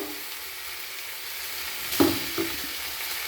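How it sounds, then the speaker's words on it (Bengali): Ground spice paste frying with potatoes in a pan for an omelette curry, a continuous close sizzle broken by two quick stirring scrapes near the end, no voices. "মশলাগুলোকে নাড়াচাড়া করে ভালোভাবে মশলা কষিয়ে নেবো"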